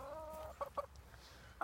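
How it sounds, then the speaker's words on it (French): Bantam hens cluck in a backyard poultry enclosure, a few short separate calls with a brief warbling note near the start, fairly faint against a quiet background. "Après, j'ai mis les poules naines ici."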